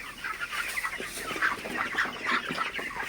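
A flock of broiler chickens clucks faintly at night, with a soft, overlapping stream of short clucks and chirps and no talk.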